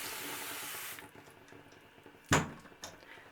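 Water sprayed onto mounted orchid roots in a bathroom hisses as a steady close spray for about a second, then quiet room sounds follow with one sharp knock.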